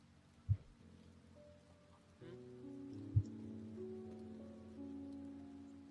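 Steady light rain falls in the video game Finding Paradise, a soft, quiet patter beneath low sustained music tones, with two brief dull thumps near the start and middle.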